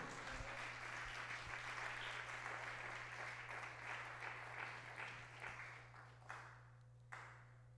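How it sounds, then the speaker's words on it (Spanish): A church congregation claps during a sermon, a quiet, steady patter of hands that thins out toward the end, with a low electrical hum running underneath. "¿Cuánto dan el aplauso fuerte al Señor?"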